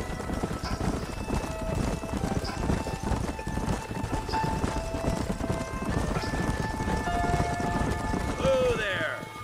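Several horses gallop in Red Dead Redemption, a dense, continuous clip-clop of hooves at close range with a whinny near the end, voices talking over it.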